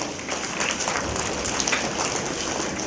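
Parents clapping together at a school annual day, a dense, steady round of applause filling the hall from start to finish.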